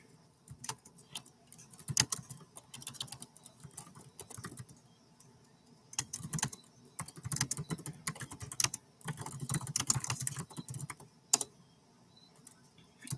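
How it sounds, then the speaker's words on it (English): Keys clatter on a computer keyboard in irregular bursts of close, quiet taps, pausing briefly between words, with a faster flurry near the end. "I will type it in here as well"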